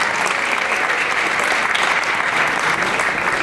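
An audience at a community breakfast event claps in sustained, dense applause that stays loud and even throughout.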